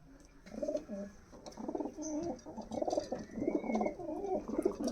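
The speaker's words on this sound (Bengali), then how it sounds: "এই হচ্ছে কামাগার পায়রা" Several Kamagar pigeons coo in soft, overlapping rounds, a steady low murmur of throaty calls close by, with faint chirps from other birds in the background.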